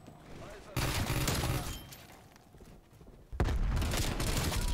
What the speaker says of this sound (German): Guck mal, wie die Schüsse da ankommen.